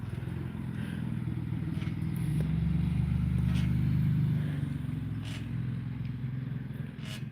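Car driving slowly past along a neighbourhood street at night, a low engine rumble that swells to a peak midway and then fades, moderately distant, with faint clicks and clatter.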